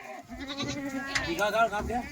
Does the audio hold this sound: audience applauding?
no